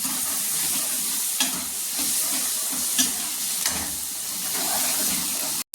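Masala with garlic-ginger paste roasts in a pan, a continuous loud sizzle and hiss with soft stirring scrapes recurring about once a second.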